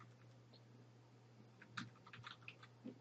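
Soft, scattered keypresses on a computer keyboard, a few quiet clicks clustering toward the end over a steady low hum.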